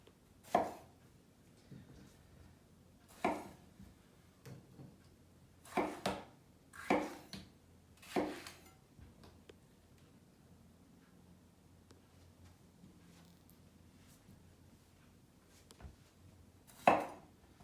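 A sharp kitchen knife chops eggplant into big chunks on a board, giving hollow thunks in uneven bursts spread across the clip with quiet gaps between them, one louder cut at the end.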